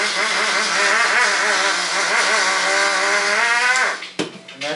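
A blender grinds dry ingredients for plant-based protein powder, a loud, steady whirring roar that wavers in pitch and then winds down near the end.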